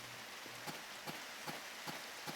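Rain falling steadily in a video game, where chickens and other farm animals are kept inside a building, a constant broadband hiss punctuated by regular soft taps, with no speech.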